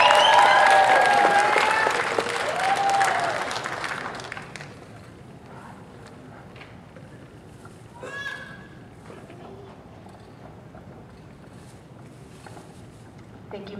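Audience applause for a student speaker at a nursing graduation ceremony, loud and dense for about four seconds before fading into quieter room noise with scattered voices.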